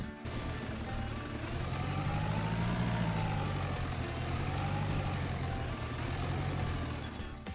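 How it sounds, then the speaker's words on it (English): Restored tractor engine running in Farming Simulator 25, a steady low rumbling idle that swells slightly and then settles into an even rhythm, heard alone at moderate loudness. "I turned the key and the engine coughed to life"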